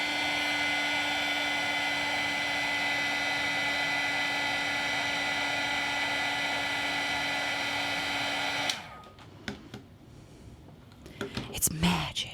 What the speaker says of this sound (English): So be careful with the heat gun.